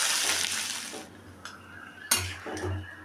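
Mung dal tipped into a pot with onion, cumin and bay leaf; a hissing rush of grains and sizzle opens, followed by metal clinks and scraping stirs close by.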